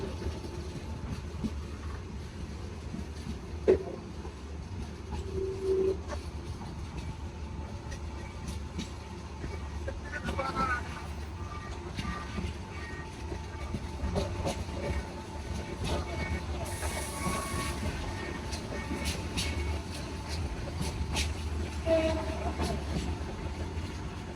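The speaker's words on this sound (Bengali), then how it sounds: "চার ঘন্টার লেট নিয়ে বিজয় এক্সপ্রেস ট্রেনটি এখন প্রবেশ করছে কুমিল্লা রেল স্টেশনে" The Bijoy Express train rolls into Comilla railway station with a low, steady rumble and scattered rattles, while voices talk over the noise.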